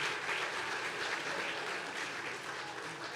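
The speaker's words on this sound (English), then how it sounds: "Round of applause and a thank you for years and years of service to Congresswoman Eshoo." Dense, steady applause from a large crowd at a Caltrain electric train launch event fills the whole stretch, even and sustained with no pauses.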